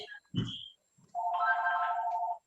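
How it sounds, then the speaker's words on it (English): Telephone ringtone chirping up steadily for over a second, close and clear, following a few brief electronic beeps and a short vocal sound during an online poetry class. "Phone is ringing."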